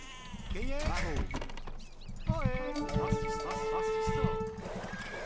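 Sheep bleat repeatedly in the strategy game Age of Empires 2, several wavering calls coming close together, with background music and game effects underneath.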